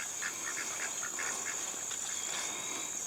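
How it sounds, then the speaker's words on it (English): Several ducks quack in quick repeated calls at moderate distance over a steady hissing background. "Do you folks hear the ducks?"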